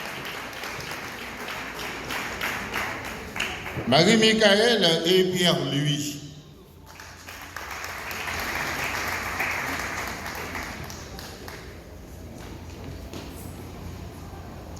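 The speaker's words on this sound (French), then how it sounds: "Applaudissez-les chaudement." At a university graduation ceremony, an audience cheers the graduates with a surge of loud clapping that peaks, then fades into a lighter patter while an announcer calls out names.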